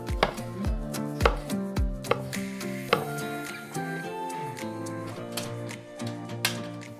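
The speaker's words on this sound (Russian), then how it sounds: "Следующими режем колбаски." A knife slicing sausages steadily on a cutting board, a series of sharp thuds at an even rhythm that slows and softens toward the end.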